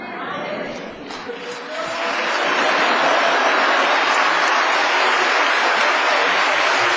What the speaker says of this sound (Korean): 목사님 나오실 때 할렐루야 하면서 박수로 맞이해 주시기를 바랍니다